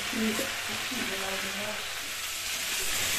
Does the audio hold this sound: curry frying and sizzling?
yes